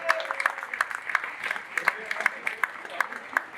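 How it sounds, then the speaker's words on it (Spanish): Audience applause at a horror awards gala, a dense run of sharp claps carrying steadily throughout, with a voice talking over the clapping. "fuerte aplauso para él"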